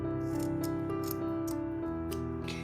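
Scissors snip through a loop of macrame cord for a beginner bookmark, giving a run of short crisp cuts spaced about every quarter second over steady background music.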